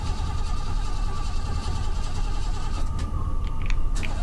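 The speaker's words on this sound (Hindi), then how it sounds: "मेरी गाड़ी क्यों नहीं स्टार्ट हो रही" Car engine in a horror driving video game cranking and refusing to start: a steady, rough mechanical drone that runs throughout, with a few sharper clicks near the end.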